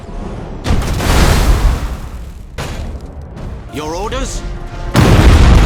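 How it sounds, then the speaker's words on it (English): Thunderhawk bombardment in the space strategy game Battlefleet Gothic: Armada 2: loud booming blasts arrive in separate bursts, and a voice speaks briefly between them. "Keep firing! Initiate Thunderhawk bombardment!"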